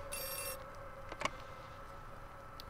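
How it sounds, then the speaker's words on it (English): Telephone ringing in the horror video game Outlast II, a faint electronic ring with a short trill and a few soft clicks, quiet and somewhat distant, no talking. "You could at least told me the phone was ringing."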